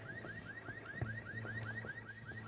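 A Lamborghini's car alarm in the video game Ghost Recon Wildlands chirps in a rapid, steady series of repeated rising tones, loud and continuous, with a low engine-like hum and a thud beneath.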